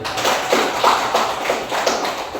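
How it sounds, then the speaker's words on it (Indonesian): Scattered light clapping from a small group of students in a classroom, a short patter of uneven claps. "Aplaus untuk Nabil."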